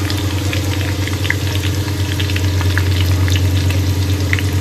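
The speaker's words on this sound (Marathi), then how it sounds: "सो पहिला मी कांदा फ्राय करून घेते थोडा जास्त" Sliced onions fry in hot oil in a pan for an egg biryani, giving a continuous, close, even sizzle over a low steady hum, with no talking.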